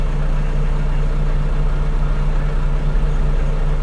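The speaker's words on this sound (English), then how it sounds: "And here's the D8 that's pushing the pans." A heavy Caterpillar D8 bulldozer engine drones steadily nearby, a low, constant rumble as it pushes scraper pans, with no voices.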